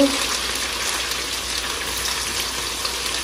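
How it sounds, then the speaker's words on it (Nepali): Garlic frying in hot oil for a chicken pickle gives off a steady, even sizzle, like a soft gushing hiss that holds at the same level throughout. "म यहाँ लसुन खार्दैछु, लसुन खर्याउँछु"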